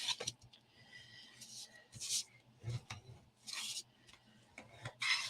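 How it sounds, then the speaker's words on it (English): A bone folder rubs across folded paper flaps along score lines, producing short, soft scraping strokes in irregular bursts separated by quiet gaps, close and faint. "I'm going to use my big boner. I am going to give those flaps a rub."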